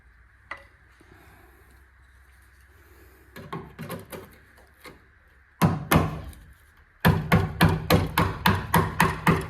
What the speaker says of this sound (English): and a wood chisel. Best way to get the filler off.